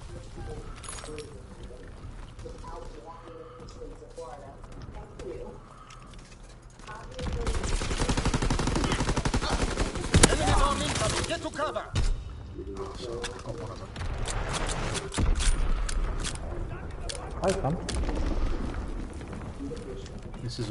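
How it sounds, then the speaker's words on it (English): Enemy strafing-run gunfire in Call of Duty WW2: dense rattling fusillade of machine-gun fire and impacts swelling loudly midway, continuing in bursts alongside faint background voices and game noise. "Enemy strafing run inbound!"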